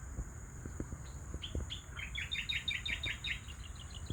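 A run of quick, bright bird chirps repeats in the middle distance over a steady outdoor hum and a few low knocks.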